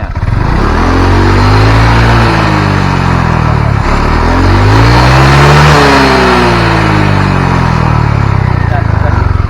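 A Honda Vario 150 LED (K59) scooter with worn piston rings, burning oil and smoking white, revs hard under throttle in repeated rising and falling sweeps, loud and close, with someone talking over it.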